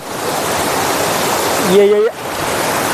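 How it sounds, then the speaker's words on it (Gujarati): Water rushes and gurgles over the overflowing Kareda dam in a steady, loud roar close by. A voice cuts through briefly near the end. "એ જો આ કેવું ખખોળિયા મારતું પાણી જાય આમ જોવો તમે"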